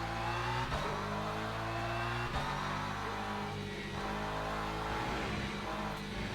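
Race cars, a McLaren and a BMW, drive at COTA in the Le Mans Ultimate video game, engines droning steadily with sharp gear-shift breaks and shifting pitch as they pass close by.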